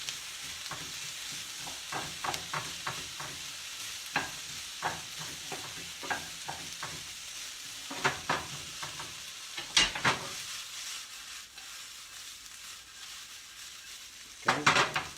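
Onion slices frying and sizzling in a pan as shrimp fra diavolo is cooked, with a steady sizzle broken by repeated stirring and scraping taps of a utensil against the pan, louder clatters near the end.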